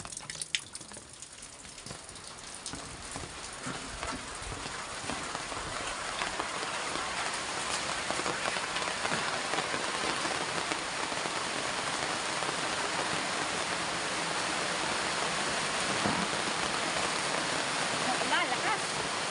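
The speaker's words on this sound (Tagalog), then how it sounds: "Ulan." Heavy rain pours down steadily in a broad, continuous hiss that swells slightly after the opening seconds, with thunder mentioned nearby and a voice or two faintly present beneath the downpour.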